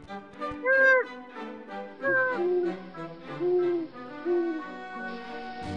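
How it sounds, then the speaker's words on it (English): Great horned owl giving a run of about five drawn-out, wavering hoots at a steady, unhurried pace, fairly close and clear with no talking over them. "The great horned owls."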